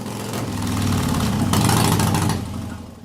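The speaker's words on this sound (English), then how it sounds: "With a large intermediate jet in the carb, the engine runs sluggishly. Note that the exhaust has a dull sound." An S&S carbureted motorcycle engine running rich with an oversized 40-thousandths intermediate jet, idling sluggishly with a steady, dull, low exhaust rumble that swells slightly midway, close and loud with no talk.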